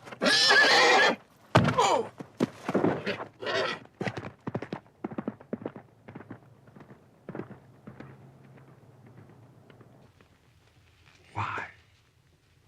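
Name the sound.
horse neighing and hooves clip-clopping, sound effect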